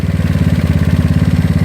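A GY6 scooter engine with an OKO PWK 30mm carburetor runs lean after a mixture screw adjustment, idling with a steady, uneven pulsing chug and rough clatter, close and loud throughout with no talking.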